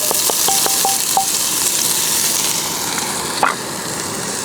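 Shallots sizzle in olive oil in a Dutch oven while camp cooking a meatless mushroom lasagna: a steady, bright hiss with several quick metallic stirring taps early on and a sharper clink near the end.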